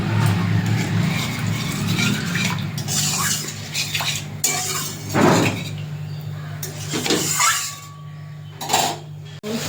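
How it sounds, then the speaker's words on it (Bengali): Water poured into poppy seed paste frying in oil in a pan, with a loud, close hissing sizzle and splashing that surges, fades and flares again, followed by a few clinks. "অল্প জল দেব"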